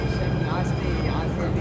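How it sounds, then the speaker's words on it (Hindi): A metro train pulls into a station in Jaipur with a loud, continuous low rumble and hiss that fills the whole moment, while people talk close by over it. "ये आ गई हमारी मेट्रो।"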